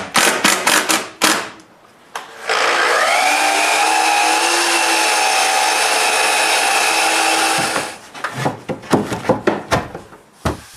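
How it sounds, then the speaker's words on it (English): A power screwdriver drives screws into interior wooden wall planks in a workshop, a loud sustained motor whine lasting several seconds, framed by rapid clattering knocks and taps before and after. "I could screw the interior wall planks"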